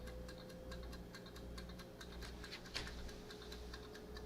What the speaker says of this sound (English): The timer's ticking down.